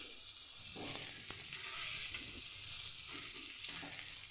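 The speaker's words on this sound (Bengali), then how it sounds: "হালকা করে তেল গরম করে তার উপর এই যে কলাগুলো দিয়ে দিলাম" Ripe plantains (bichi kola) frying in a small amount of hot oil in a pan, a steady soft sizzle with faint stirring clicks, close and continuous with no talk.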